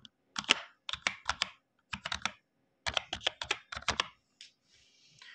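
An account login is typed on a computer keyboard in quick bursts of crisp, close keystrokes separated by short pauses, ending with a few isolated taps.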